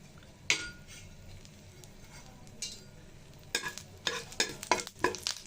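Bay leaf and broken dried chillies fry in mustard oil with a quiet sizzle, as a spoon scrapes and clinks against the pan in a cluster of stirring taps near the end.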